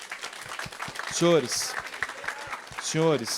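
Light clapping for a teacher from a class audience, a soft scatter of claps beneath a voice that talks over it, with a sustained sung or drawn-out vocal tone rising twice above the patter.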